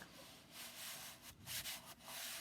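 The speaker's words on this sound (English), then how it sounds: "I'm pushing out all my air out of my silk screen" A silk screen stencil transfer is rubbed down by hand to push out trapped air, giving a steady, close scraping rub with brief pauses and swells in strength.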